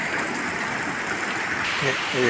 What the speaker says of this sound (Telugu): చూడండి వర్షం కూడా బాగా వస్తూ ఉంది